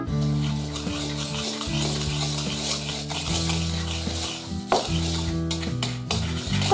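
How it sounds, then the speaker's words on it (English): A whisk folds a cup of sugar into a mixture for a vintage Dutch Christmas vinegar pie, scraping and tapping against a bowl in a steady near rhythm, with a tonal background and no speech. "We have 1 cup of sugar here, and we're just going to fold it in"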